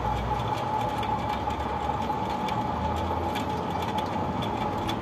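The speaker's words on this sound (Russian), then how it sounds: "По-моему, это подшипник." A steady mechanical whir with a constant hum from a spinning wheel with a faulty bearing, droning on evenly without pause.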